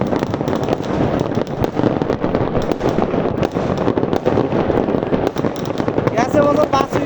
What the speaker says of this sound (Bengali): ওই যে ওই একটা বাজি আলাদা, ওই যে উড়ে উড়ে যাইতেছে।